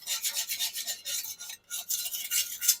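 Steady brisk scrubbing as dirt is cleaned off a garden tool before sharpening: a close, raspy brushing stroke repeated rhythmically for about three seconds with one short pause, no voices.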